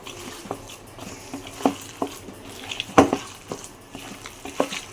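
Wet, squelchy hand-mixing of ground khesari lentil and rice batter with onion, green chilli and coriander leaves in a bowl, soft irregular slaps and clicks, close and fairly quiet, no talking.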